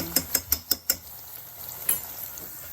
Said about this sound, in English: So I'm just gonna allow it to fry for a good 1 minute.